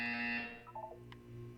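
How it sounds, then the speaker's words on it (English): A loud electronic buzzer from the video game Portal 2 sounds as one steady harsh tone and then cuts off, followed by a brief soft chime. "You will hear a buzzer. When you hear the buzzer, look down at the floor."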